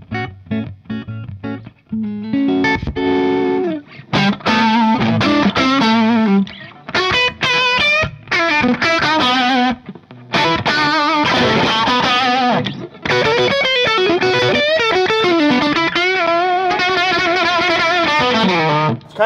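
Electric guitar played through a Nova Drive analog distortion and overdrive pedal, loud gritty chords and sustained notes in bursts with brief pauses between phrases, no talking.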